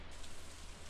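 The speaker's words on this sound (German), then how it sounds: "Toll, jetzt regnet's." In the Stardew Valley farming game, rain falls as a brief, steady hiss of dense patter without any break.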